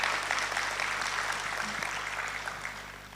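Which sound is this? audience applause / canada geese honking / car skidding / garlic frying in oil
audience applause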